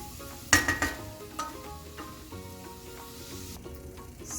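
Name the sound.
onions and cumin seeds sautéing in a pan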